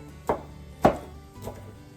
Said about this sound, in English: I'm going to put it on this cutting board, and I just want to kind of rough chop it.